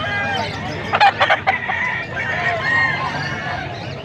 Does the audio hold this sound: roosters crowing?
yes